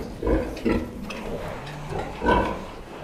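Pigs grunt in short, low bursts a few times, close by, with quieter shuffling between the grunts.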